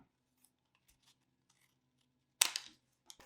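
Scissors snip the tip off a rolled paper cone for a giant paper sweet pea flower: near silence, then one sharp crisp cut followed by a smaller snip near the end.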